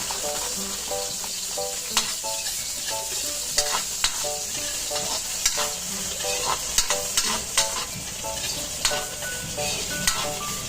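Ginger and garlic sautéing in a hot pan as the base for chicken tinola, a steady close sizzle of frying with repeated sharp clinks and scrapes of a utensil stirring against the pan.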